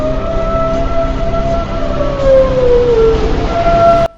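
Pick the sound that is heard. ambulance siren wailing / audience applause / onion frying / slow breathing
ambulance siren wailing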